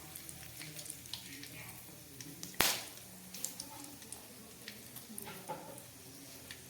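Whole garam masala spices, cardamom, cloves and cinnamon, dropped into hot oil, a sudden sharp sizzle burst followed by quieter crackling and popping that continues faintly, with a voice talking over it.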